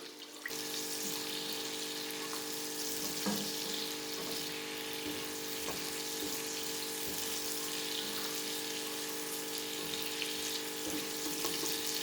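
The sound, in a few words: green chilies with crushed garlic and ginger frying in pan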